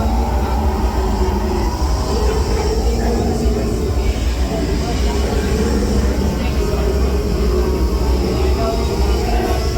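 Onboard the Disneyland Railroad train, a steady loud rumble of wheels and running gear rolls on for the whole stretch, with riders talking faintly underneath.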